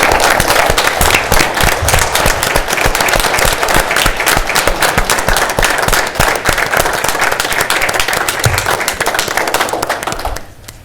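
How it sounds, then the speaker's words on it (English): A council meeting audience gives a loud, close round of applause for Jim, dense sharp hand claps running continuously for about ten seconds before tapering off abruptly at the end. "So let's give Jim a round of applause."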